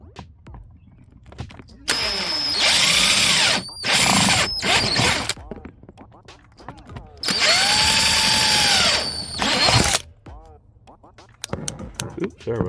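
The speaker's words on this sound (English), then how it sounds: "I'm just gonna drill it and then clean it up with the Dremel." A power drill whines loudly in two long bursts, cutting a hole in a Honda Element, its pitch rising and falling as it bites through material, with quieter pauses between.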